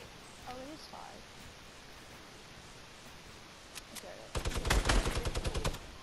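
Fortnite gunfire erupts late as a rapid, loud burst of closely spaced shots after a quieter stretch of game ambience with a few faint earlier pops and brief vocal sounds.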